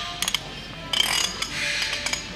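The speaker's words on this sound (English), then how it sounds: "install adjusting nut, torque to 200 foot-pounds while rotating the wheel" Ratchet wrench clicking as a truck wheel bearing adjusting nut is torqued while the wheel is turned, with bursts of quick metallic clicks in short runs, close and fairly loud, no talking.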